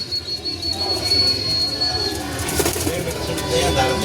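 Racing pigeons arrive and coo during a smash-weather race, wings flapping close by, with a faint steady tone and people talking in the background.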